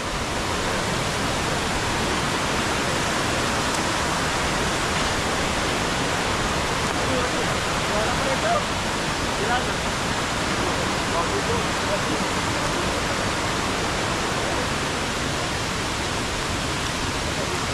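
Forest waterfall in the countryside of Barangay Piis: a constant broadband rush of falling water, loud and unchanging throughout, with a brief faint voice barely audible beneath it.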